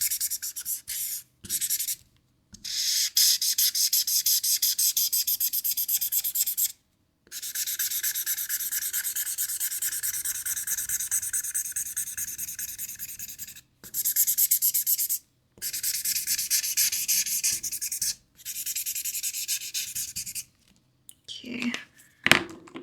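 Alcohol marker with a chisel tip scratching broad strokes across paper, continuous rasping rubbing in long stretches broken by short silent lifts, close and clear with no talk over it.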